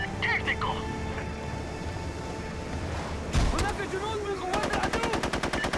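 Video game gunfire during a buggy mission: a burst of shots followed by rapid, evenly spaced automatic fire under steady engine and ambient noise, with talk over it.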